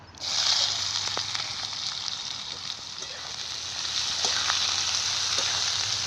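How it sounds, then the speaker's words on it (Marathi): Cumin and mustard seeds with onion frying in hot oil give a steady, close sizzle that swells slightly toward the end, with a few faint pops and no talk. "तेल चांगलं गरम झालं जिरी आणि मोहरी टाकते त्यात जिरी मोहरी तडताडली की कांदा टाकून देते"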